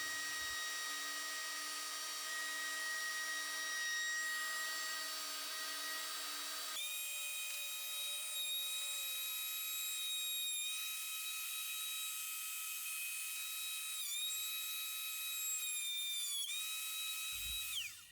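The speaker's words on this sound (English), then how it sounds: "Using my planer sled, I put a flat face on each board." A planer flattening wooden boards on a sled, a loud steady motor whine with sustained high tones that shift pitch midway as the cutter engages, running alone until it cuts off at the end.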